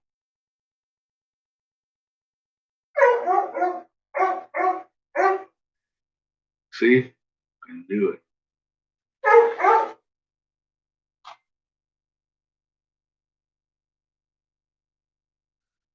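A dog gives short, sharp barks in clipped bursts with a few yips and whines between them, close and clear against silence, ending with a faint final yelp.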